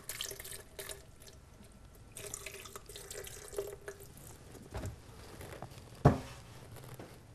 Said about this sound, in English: I'm going to grab a coconut, some coconut water to give it its water